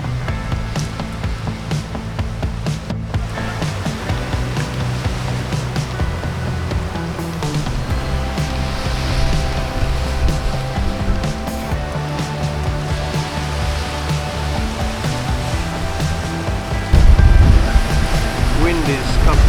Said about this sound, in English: the swell was still on the increase